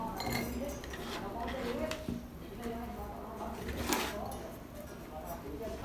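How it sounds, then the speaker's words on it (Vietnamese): Chopped okra goes into a clean cooking pot in a home kitchen, giving soft clinks and knocks of cookware under steady background noise. "Sau đó chúng ta cho đậu bắp vào."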